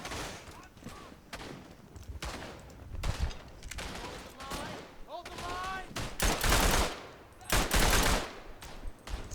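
Machine gun fire in the World War I shooter Verdun, repeated loud bursts of rapid shots mixed with distant battle noise and whistling sounds across a busy, chaotic soundscape.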